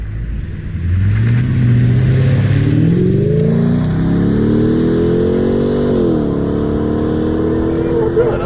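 A modified 1998 Lexus GS400 with a 1UZ VVTi V8 engine revs up from idle, pitch climbing smoothly and holding high, loud and close, with talk over it.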